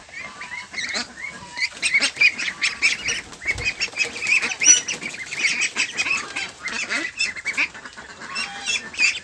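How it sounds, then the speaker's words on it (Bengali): Peking Star ducks on a farm quack and honk in a busy flock, loud overlapping calls close by with some wing flapping, continuing throughout without talk. "বড় একটা হাঁস চলে আসছে"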